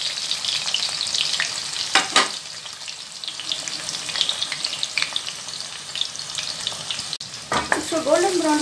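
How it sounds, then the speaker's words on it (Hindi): A large onion fries in oil in a kadhai, a loud continuous sizzle with crackling and a few sharp stirring knocks, plus a brief wavering squeal near the end, no one speaking. "एक बड़ी साइज की प्याज ली और इसको गोल्डन ब्राउन होने तक फ्राई करें"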